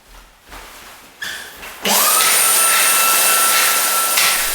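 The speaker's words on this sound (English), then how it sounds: "when you are finished vacuum cleaning all over the place, you vacuum clean again." A vacuum cleaner switches on after a few quiet knocks, whining up to a loud, steady roar that runs without letup, close by, cleaning a year-old concrete garage floor.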